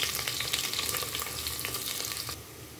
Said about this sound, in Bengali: এখন আমি পেঁয়াজ কুচি দিয়ে দিলাম।